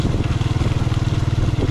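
A motorcycle engine runs loud and close while the bike descends a slope, with a steady low, pulsing throb and rough, crackling texture throughout.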